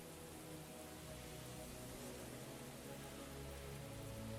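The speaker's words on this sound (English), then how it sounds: "Nice rainfall." Steady rainfall wash forms the quiet, continuous ambient layer of a metal song's intro, an even hiss of drops on a surface with no voices, faint and unchanging throughout.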